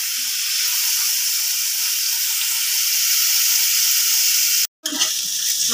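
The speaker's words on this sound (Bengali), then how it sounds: "দুবারে দিলে কি হবে, ইঁচড়টা সুন্দর করে ভাজা হবে।" Boiled jackfruit (echor) frying in hot oil, added in batches, for a Bengali prawn curry: a loud, steady sizzle with a brief cut near the end before the frying resumes with a stir.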